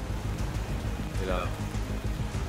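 Steady rain pours in the Ready or Not video game, a continuous hiss of drops on surfaces with a brief tonal flicker midway and people talking over it.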